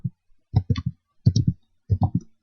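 Pinyin typed on a QWERTY keyboard in short bursts of three or four quick, crisp key clicks, close and clear with brief pauses between groups.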